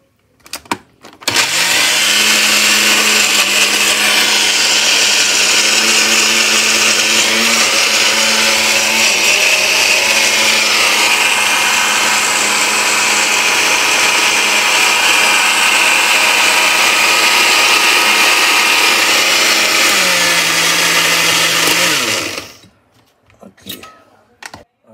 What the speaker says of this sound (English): So now we're going to grind the seasoning.